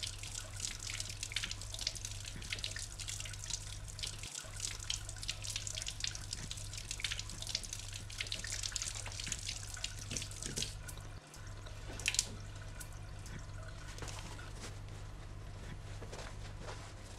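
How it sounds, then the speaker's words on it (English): Hands rinsed under a running tap at a sink, a steady splashing stream over a low hum, with a brief interruption and a clunk near the end. "Rinse your hands under running water."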